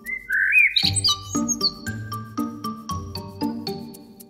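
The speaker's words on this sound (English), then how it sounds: "Blackbird." A blackbird warbles a quick run of clear, rising whistled phrases, then keeps singing over bright, tuneful music that pulses with steady notes.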